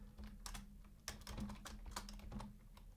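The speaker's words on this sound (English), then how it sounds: "so let's say I type this" Computer keyboard typing in a quiet room, a run of quick uneven keystrokes with short bursts and pauses, close and clear, with a faint steady hum underneath and no voices.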